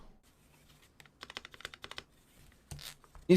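Clicky keystrokes from a custom-built mechanical keyboard, a quick burst of close, crisp typing that trails off, then a louder knock at the end.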